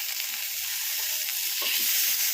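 Fish frying on a tawa gives a steady, close hiss and sizzle that continues without break, with a few faint low knocks underneath.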